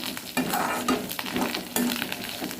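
Curry leaves fry and crackle in a hot pan for gooseberry chutney, a steady close sizzle with brief louder spits and stirring scrapes, no voices.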